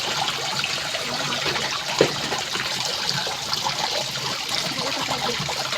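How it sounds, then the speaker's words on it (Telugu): Water pours from above into a 7 kg washing machine drum with detergent powder added, a constant close splashing gush with a brief knock partway through. "పైన నుంచి వస్తున్నాయి చూడండి వాటర్"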